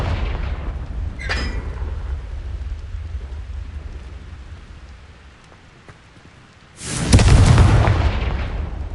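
A Confringo blasting spell goes off in Hogwarts Legacy, a sudden loud boom that rolls into a heavy rumbling roar after a stretch of low, rain-like background noise.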